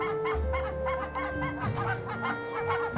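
Geese honk from a high Arctic nesting spot where goslings have just hatched, sounding a steady run of repeated nasal calls close by, overlapping one another for the whole stretch with no talking.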